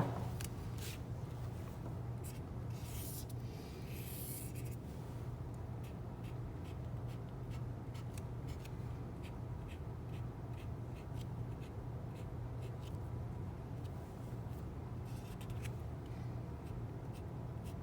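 Pen or marker strokes sketching an ellipse graph for a math lesson: soft, close scratching and tapping over a steady low hum, with no talking.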